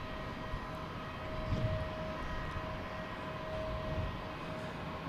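An American Airlines Boeing 737-800 jet lines up on runway 22 Right at Boston Logan, heard as a faint, distant, steady engine hum with a thin whining tone and soft broadband rumble throughout.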